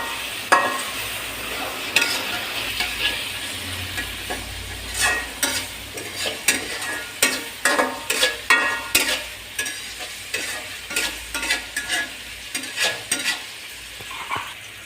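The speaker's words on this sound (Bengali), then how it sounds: "টমেটো দিয়া আবারও লাড়াছাড়া করলাম" Tomatoes for noodles frying and being stirred in a pan, with a steady sizzle beneath a run of repeated scraping, stirring strokes that come close and fairly loud, alone without talk.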